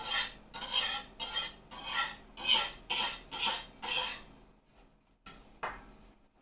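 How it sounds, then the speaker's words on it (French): A utensil scraping and stirring melted butter in a shallow dish, eight rhythmic rasping strokes followed by a few lighter, sparser scrapes as the motion slows. "je mélange le beurre fondu"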